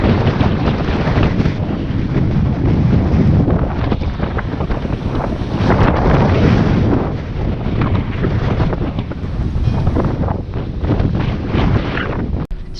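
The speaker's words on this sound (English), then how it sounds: "winds are like 50, 60 kilometers an hour with gusts to 70" Strong wind gusts buffeting a parked van at Shark Bay, with winds around 50 to 60 km/h gusting to 70; a loud, continuous roaring rush with surging gusts fills the whole stretch, no voices.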